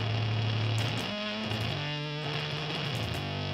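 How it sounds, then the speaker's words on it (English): A buzzing, distorted guitar tone recorded through a light bulb drones and shifts, harsh and gritty, with no voices. "Ooh, that's a nice distortion"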